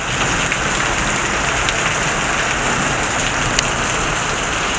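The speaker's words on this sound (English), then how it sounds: "It's pissing water." Heavy rain during a thunderstorm, a dense, loud, continuous downpour pounding on surfaces close by, steady throughout with no voices.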